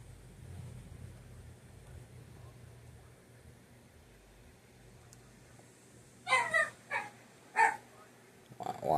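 After a quiet stretch of low hum, a dog barks three or four times in quick bursts, moderately loud, with a final bark cut off at the end.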